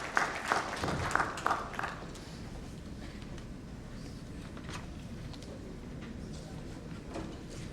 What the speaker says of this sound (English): A big round of applause to Alok ji for his wonderful contribution in the panel.